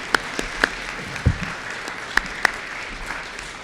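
A handful of scattered, separate claps from the audience at an eighth grade promotion ceremony, widely spaced over a quiet room rather than a full round of applause.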